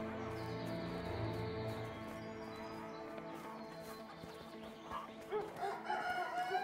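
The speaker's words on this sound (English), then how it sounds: "going to see the chickens." Chickens from the video game A Way Out cluck and crow over steady in-game music and ambience, with a louder burst of fowl calls near the end.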